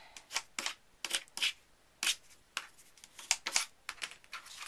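Paper pieces of a handmade mini album are folded and creased by hand, giving a series of short, quiet crinkles and snaps with small pauses between them, close by and soft.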